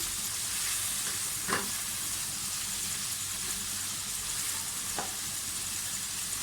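Carrots and other vegetables hiss and sizzle in a hot pan while cooking chicken spaghetti, a steady close frying crackle with a couple of faint utensil clicks and no talking.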